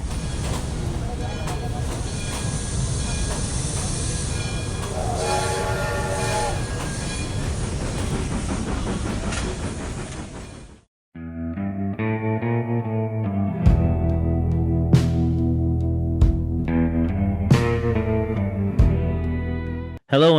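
Train sound effect opening a podcast intro: a steady rumble of a rolling train with rail clatter for about ten seconds, then a brief drop, followed by a musical passage with horn-like tones and sharp accents, loud and close.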